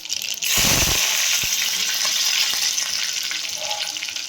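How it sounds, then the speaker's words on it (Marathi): Curry leaves drop into hot oil already holding mustard seeds for a dhokla tempering, and a sudden loud burst of sizzling breaks out, then settles into a sustained crackling hiss that slowly eases. "त्याच्यानंतर कढीपत्ता टाकायचा आहे."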